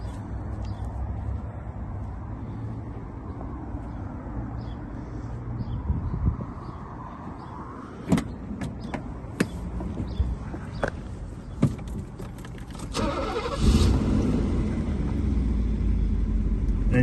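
A 1987 Mercedes-Benz 560SL: a low steady rumble and a few sharp knocks, then the engine catches near the end and settles into a smooth, close idle.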